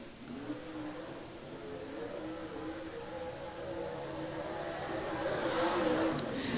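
A brand-new Rocket dirt late-model race car runs a solo qualifying time-trial lap at Farmer City Raceway, its engine droning steadily at mid distance and swelling louder as it approaches, over crowd and track ambience.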